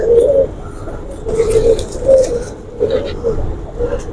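Repeated soft coos from a fancy pigeon, several in a loose rhythm, close and fairly clear over a low background rumble.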